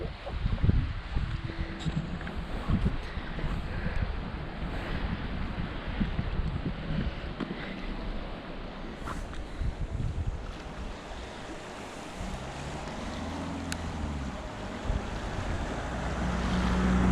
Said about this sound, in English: It's going really fast, the river. Really pushing through.